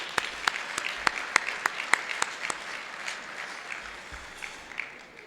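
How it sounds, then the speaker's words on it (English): Applause from a gala audience, opening with a few loud, distinct nearby claps over a wash of general clapping that gradually thins and fades. "Let's give them all a round of applause."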